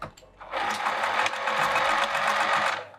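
A sewing machine runs a steady burst of about two and a half seconds, stitching a seam in a vinyl handbag at a 2.5 mm stitch length, its needle whirring in a fast, even mechanical chatter that starts and stops cleanly.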